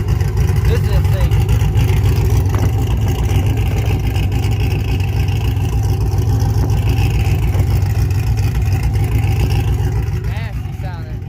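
A Chevy SS truck with monster tires, a fuel cell and a cold air intake, its engine running in a loud, steady rumble throughout with someone talking over it nearby.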